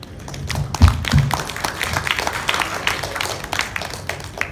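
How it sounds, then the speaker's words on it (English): An audience claps at a plastics company's annual dinner, a brief burst of many overlapping hand claps, close and lively, fading over a few seconds. "Give yourselves a big hand clap."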